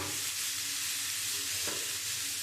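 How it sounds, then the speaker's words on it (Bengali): Cut potatoes frying in a pan for a spicy fish curry, with a steady, loud, close sizzle throughout and a brief stirring scrape partway through. "আমি এখন আলুটা কেটে রেখেছি, আলুটা দিয়ে দেবো। আমি একটুখানি ভেজে নেব।"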